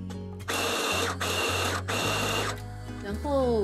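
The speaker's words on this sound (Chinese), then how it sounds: "cheese 用搅碎机搅碎" An electric food chopper grinds mozzarella cheese in several loud whirring bursts separated by short pauses, ending with a rising motor tone.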